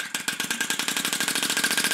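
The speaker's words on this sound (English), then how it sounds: "The engine still runs" Homemade air engine running at a steady rapid pulse, each stroke a sharp puff of air repeating about ten times a second, loud and close with no voices.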